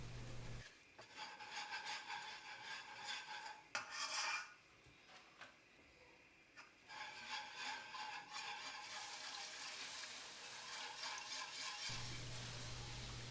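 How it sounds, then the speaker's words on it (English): Quiet scraping and rubbing of a utensil stirring all-purpose flour in a pan for a bechamel sauce, steady soft strokes continuing with a few brief pauses. "add 1 heaped and a little more all-purpose flour and going to stir it until I have nice smell coming from the flour."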